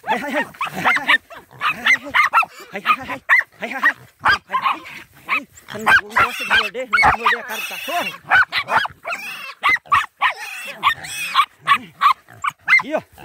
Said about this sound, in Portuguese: Cachorrada que é bruta, hein?